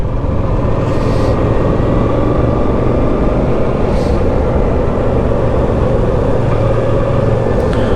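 A Yamaha TRX 850 motorcycle engine labours at low revs while riding, giving a loud, constant, rough drone that stays steady throughout.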